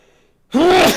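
A single sudden, loud vocal burst after near silence, a sharp voiced outburst like a sneeze, close to the listener.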